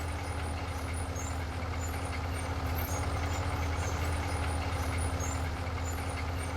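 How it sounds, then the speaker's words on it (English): A small tractor engine in Farming Simulator 19 pushing snow, a steady, loud low engine drone with a constant hum running unbroken throughout, no talking. "I really do enjoy driving this little tractor."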